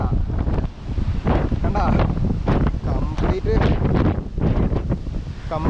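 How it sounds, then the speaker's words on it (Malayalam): Strong gusting wind roars across the microphone on a coast during heavy, unrelenting rain, with a rough sea and coconut palms nearby. The wind swells and drops in loud, rumbling bursts, and a voice speaks briefly. "എന്താ കാറ്റ്, തെങ്ങളൊന്നും പറഞ്ഞു വീഴാണ്ടിരുന്നാ മതി"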